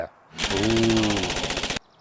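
A voice imitates the rapid fire of an MG machine gun, a loud, close burst of fast rattling lasting under two seconds, alone with no other talk.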